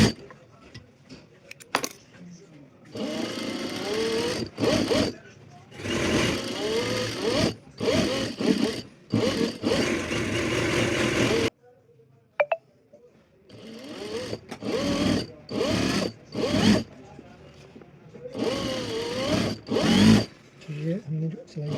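Sewing machine stitching the hem of an abaya during an alteration, running in several loud whirring bursts of a few seconds each, separated by short pauses and a longer silent stop.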